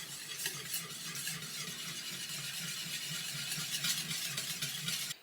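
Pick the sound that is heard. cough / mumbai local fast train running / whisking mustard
whisking mustard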